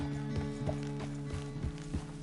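A horse's hooves clip-clop steadily at a walking pace in the western game Red Dead Redemption 2, with even, evenly spaced thuds over a soft, sustained musical backdrop.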